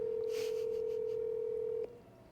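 A telephone ringback tone sounds while a call waits to be answered, one steady loud electronic tone that holds for nearly two seconds and then cuts off abruptly, with no talk.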